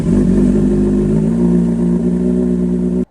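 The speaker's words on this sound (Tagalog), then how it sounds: "start nyo yung makina at para umakyat yung langis." Kawasaki Z900 motorcycle engine running after an oil change, a loud, close, steady idle with a slight shift in pitch partway through, cutting off abruptly near the end.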